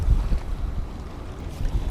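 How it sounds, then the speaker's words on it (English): Strong wind buffets outdoors beside a bass pond at a homestead dam, a steady low roar of gusts rumbling close and loud for under two seconds with no voices. "Wow, it's like super windy."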